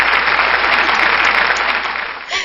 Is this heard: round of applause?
yes